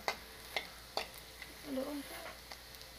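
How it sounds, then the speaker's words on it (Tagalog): Garlic and onion sauté in cooking oil with a faint, soft sizzle broken by sharp scraping clicks of stirring, and a brief voice-like sound partway through. "nagigisa na kami ng bawang, sibuyas with mantika"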